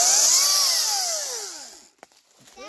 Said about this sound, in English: I always like to see Lissa work the chainsaw.